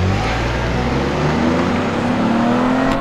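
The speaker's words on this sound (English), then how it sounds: "Chevy Blazer. RS all-wheel drive without launch control. It picks up there." A Chevy Blazer RS with all-wheel drive accelerates hard without launch control, its engine note climbing steadily in pitch as it pulls away, loud and close with a dense rumble throughout.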